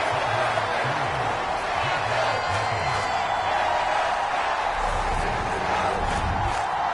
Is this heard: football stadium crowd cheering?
yes